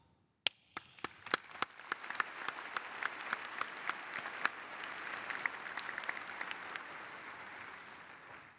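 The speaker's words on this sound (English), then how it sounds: "We applaud all these students for their outstanding accomplishments." Audience applause at a 2023 academic convocation, opening with a few sharp individual claps that quickly build into a sustained, even round of clapping from a crowd, then slowly thin out.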